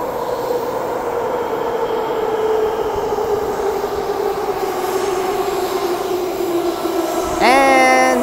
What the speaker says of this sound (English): first let the train come in